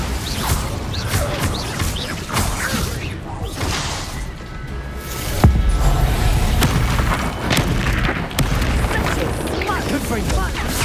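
Bombarda spell explosions in the video game Hogwarts Legacy, heavy booms and crashes bursting repeatedly amid whooshing spell effects, with voices calling out during the fight.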